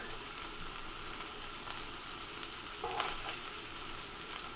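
A burger patty frying in a dry cast iron pan gives a steady, dense sizzle that holds at an even level throughout, with a faint scrape partway through and no voices.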